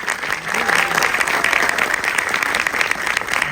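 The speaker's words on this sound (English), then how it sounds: "Please, a round of applause for Jeremy Arnold." Audience at a film festival screening breaks into sustained, full applause, a thick and even roar of many hands clapping close by.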